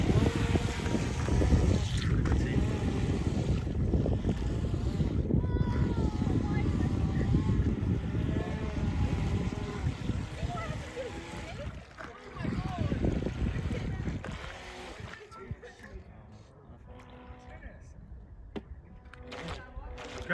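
A Volantex Vector SR48 radio-controlled boat, newly repaired, runs on open water with a buzzing motor hum under wind noise and people talking nearby, fading quieter toward the end.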